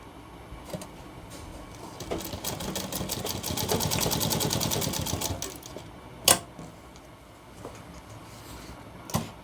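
A sewing machine stitches a shirt collar, a fast mechanical rattle that builds, runs steadily for a few seconds and then stops, followed by a sharp clack and quieter handling sounds.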